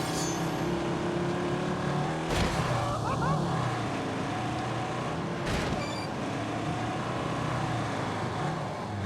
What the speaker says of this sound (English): I am racing a pickup truck off-road in Wales to refuel a helicopter